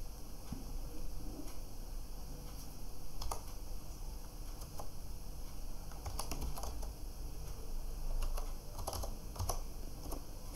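Quick, irregular keystrokes on a computer keyboard tap and click close by in a quiet room, with a few denser bursts of typing and no talking.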